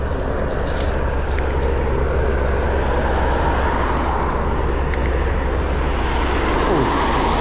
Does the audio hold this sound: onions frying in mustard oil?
no